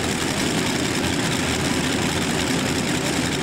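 A modified pulling tractor idles at a night tractor-pull event, a steady, loud, heavy engine drone with dense low vibration holding unchanged throughout, with no speech.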